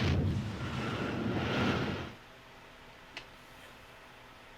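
A big explosion in the video game Metal Gear Solid 3 lets out a loud, rumbling roar that holds for about two seconds and then drops sharply to quiet, with one faint click afterward.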